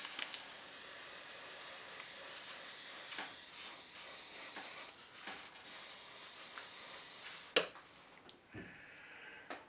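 Airbrush spraying acrylic paint onto a model water tower, a continuous close airy hiss that stops and restarts in the second half, with a few clicks and bumps between sprays and no talk.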